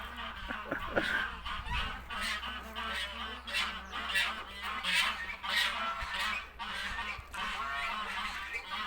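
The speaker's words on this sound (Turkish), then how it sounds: "Kazlar kavga edince dikkati o tarafa git." Harsh, overlapping goose honks repeat in a noisy burst of squabbling calls, fairly close and loud, over a steady low background hum.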